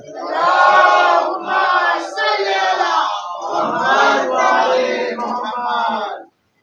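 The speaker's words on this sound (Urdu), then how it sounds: "ان کے استقبالی کے لیے بلند ترین نعرے صلوات." A crowd at a religious celebration in Mumbra raises loud unison chanted salawat, several sustained voiced phrases one after another, close and strong before stopping abruptly.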